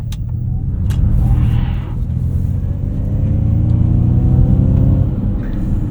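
A 2024 Ford Mach-E Rally electric crossover accelerating on a street with slight wheel slip, a loud low rumble of road and drivetrain noise with a faint rising whine building over several seconds.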